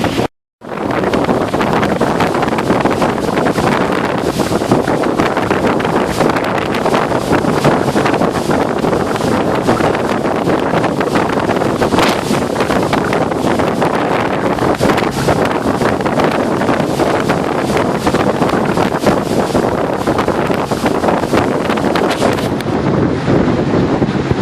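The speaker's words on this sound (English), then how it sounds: "wind's coming out this way. It's coming this way." Strong wind roars steadily across the microphone on a sailboat angling across the wind at sea, a loud continuous rushing buffet with water and boat noise beneath, and no talking.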